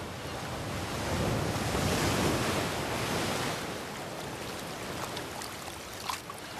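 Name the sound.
wind and ocean waves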